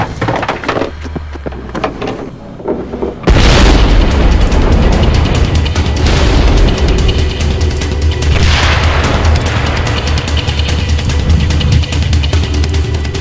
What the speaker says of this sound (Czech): A potom odpálí ruční granát.